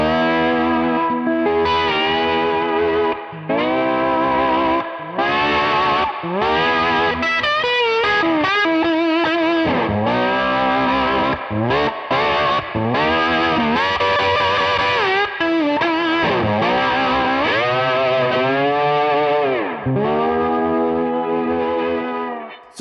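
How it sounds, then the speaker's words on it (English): An electric guitar played with a heavy brass slide, run through effects, sings long sustained gliding notes with distortion, chorus and echo, loud and continuous throughout with no talking. "the sustain and the tone is really good"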